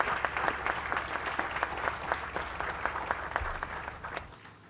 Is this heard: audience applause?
yes